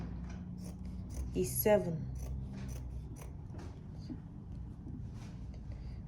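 Scissors cut fabric for a kaftan sleeve in a brief, sharp snipping burst, quiet and close, with faint background and a speaking voice nearby.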